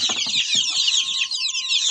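A broody hen clucking close by in a farmyard, a series of short soft clucks under steady high-pitched chirping of chicks.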